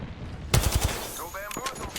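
Video game shootout gunfire, a quick close burst of several shots followed by more scattered shots and electronic game tones.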